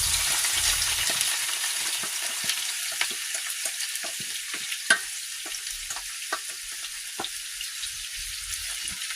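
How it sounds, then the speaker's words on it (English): Boiled potatoes and onions fry in bacon grease with a steady broad sizzle, crackles and pops scattered throughout, and a few soft stirring scrapes at close range with no talk. "Now I'm going to cook them in bacon grease."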